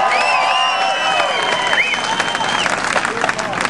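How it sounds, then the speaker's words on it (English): A crowd cheers and applauds for springboard divers at a diving meet, a loud sustained wash of clapping and shouts with whistle-like calls rising over it. "Make some noise, cheer them on"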